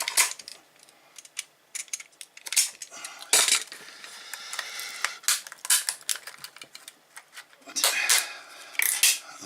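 A blade slices and cuts through the wrapper of a laptop battery pack, giving sharp irregular scraping, crackling and clicking bursts up close with brief quiet gaps.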